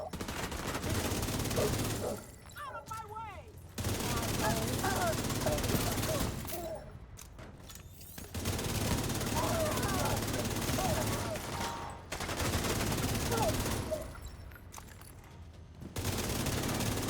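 Rapid gunfire aimed at a hostile incinerator turret in a shooter video game, loud bursts of several seconds each broken by short pauses.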